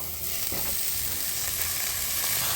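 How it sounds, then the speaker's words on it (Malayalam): Chopped mushrooms hit hot oil and spices in a pan for Kerala-style mushroom thoran, giving a steady close sizzle with a soft stirring scrape, no voices. "നമ്മൾ അരിഞ്ഞു വെച്ചേക്കുന്ന കൂണിട്ട് കൊടുക്കാം"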